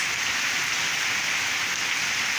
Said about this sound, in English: it's raining so much. Pitter patter, the raindrop goes.